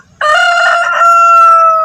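Rooster crowing once, close and loud, a single sustained cock-a-doodle-doo call that starts abruptly and holds strong to the end.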